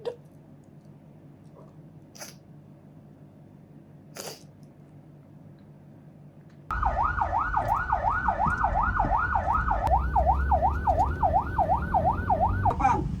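An ambulance siren in Bali starts abruptly halfway through after a quiet stretch with a few faint clicks, then wails loud and close in a steady, fast rising-and-falling cycle.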